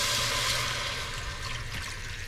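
Water pours steadily into a cooking pot inside an RV kitchen, a continuous close splashing flow measuring out four cups with no pauses or talk.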